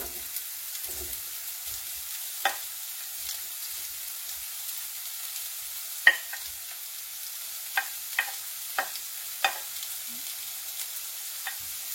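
Bell peppers frying in a pan with a steady soft sizzle, punctuated by scattered sharp clicks and scrapes of stirring, heard alone at close range.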